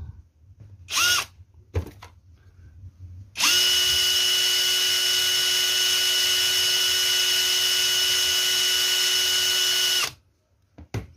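A cordless power drill runs on a 2Ah battery, spinning up to full speed and holding a steady, loud whine for about seven seconds after a couple of short trigger blips, then stops.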